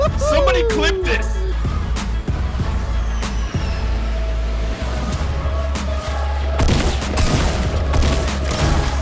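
Loud Fortnite gunfire, with sharp shots and blasts packed into a busy stretch of gameplay noise while excited players shout and talk over it throughout.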